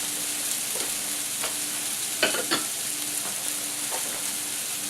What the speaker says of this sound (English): next ingredient, and that is chopped red pepper. I add this last as far as the sautéing of ingredients